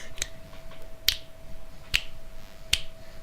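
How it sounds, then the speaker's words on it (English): Four crisp finger snaps ring out one by one at slow, slightly uneven intervals, close and clear over a faint steady hum. "I'm snapping my fingers"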